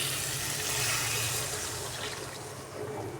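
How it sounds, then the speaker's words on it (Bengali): Warm water is poured into a pan of paneer and potato curry, making a soft, continuous splashing gush that holds steady for a few seconds, quiet and close, with no speech. "এবার আমি এর মধ্যে অ্যাড করে দেব পরিমাণ মতন জল, উষ্ণ গরম জল পরিমাণ মতন অ্যাড করে দেবো।"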